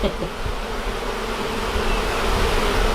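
Honeybee swarm inside a shed, a dense continuous buzzing close by that holds steady and swells slightly toward the end, with no voices.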